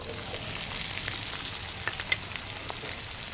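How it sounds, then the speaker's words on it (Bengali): Chopped onions frying in a little oil make an even, continuous sizzle at moderate volume, with a few small pops and crackles. "সামান্য পরিমাণে তেল এখন আমি দিয়ে দেবো পেঁয়াজ কুচিগুলো"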